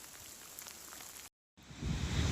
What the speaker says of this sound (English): it's raining right before the top